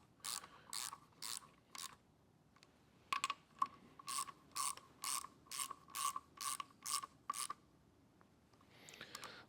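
A hand ratchet snugs down bolts one after another on a 1949 Willys truck, giving bursts of quick clicking separated by short pauses, close and fairly quiet, with a faint rustle at the end.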